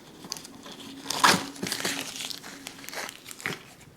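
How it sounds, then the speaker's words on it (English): Paper backing is torn away from freshly stitched fabric in a series of close, crinkly rips and crackles. Several louder tugs come in uneven bursts, with no talk. "After the stitching is complete, tear the paper off of the back side."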